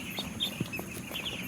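Five-day-old chicks chirping and clucking at night in a poultry shed, a steady busy chorus of small peeps with occasional louder calls, no voices.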